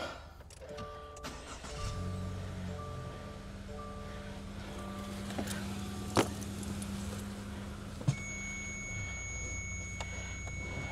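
A 2.0-litre Subaru Crosstrek engine idles steadily after an oil change, a low constant hum with an electronic chime tone and a couple of sharp clicks over it.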